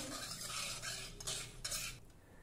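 A spoon stirs turmeric and a teaspoon of oil into a dal and rice mixture in a pot, making faint scraping and clinking strokes in uneven bursts close by.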